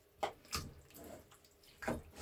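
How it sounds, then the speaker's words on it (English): Tap water poured into a pot for potato and leek soup with pork sausage, heard as short hissing splashes: two bursts close together, a quieter stretch, then another burst, close by with no talking. "I'm going to get a little bit of water."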